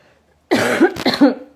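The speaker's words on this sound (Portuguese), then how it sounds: "De novo a tosse." A sudden fit of harsh, close coughing, several rough bursts in quick succession after a moment of silence.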